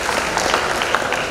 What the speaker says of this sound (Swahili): tunakupigia makofi mengi sana